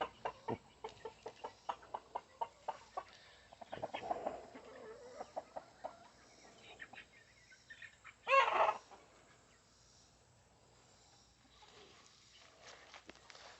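A hen clucks softly near a feeder among farm chickens, faint scattered clucks and scratching steps with one louder squawk midway.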